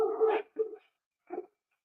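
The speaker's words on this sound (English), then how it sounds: "Can you hear that dog barking?" A dog barks indoors in three short bursts, the first longer and the last faint and brief, with quiet gaps in between.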